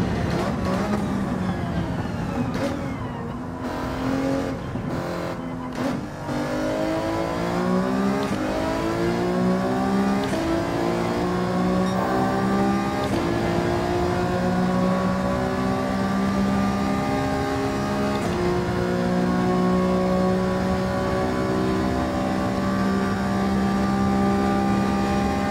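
An Alfa Romeo 155 racing engine in Gran Turismo 7 revs up through the gears with rising harmonic whine, loud and continuous, a voice speaking over it early on.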